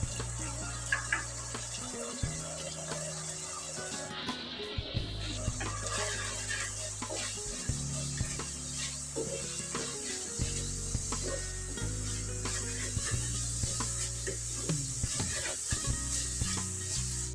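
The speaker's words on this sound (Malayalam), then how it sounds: "നമുക്കിതിൽ മസാലപ്പൊടി ചേർത്ത് കൊടുക്കാം" Masala powder stirred into hot oil for a fish curry, with a steady close sizzle and repeated scraping strokes of a spoon across the pan throughout.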